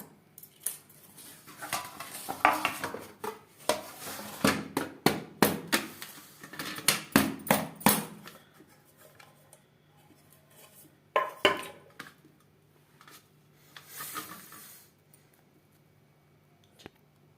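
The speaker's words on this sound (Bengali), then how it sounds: "এইভাবে চার সাইডটা ছুরির সাহায্যে একটু ছাড়িয়ে নেব।" A knife scrapes and taps against the metal pan while loosening the sides of a baked Christmas fruit cake sweetened with nolen gur, in bursts of close scraping and clinking separated by brief quiet gaps.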